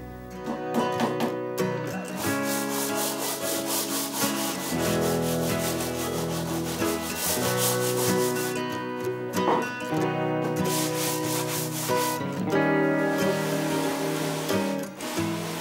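Used sander belt worked over a laminated wooden dagger board, giving loud, close, continuous rasping with repeated back-and-forth rubbing strokes and brief pauses between passes.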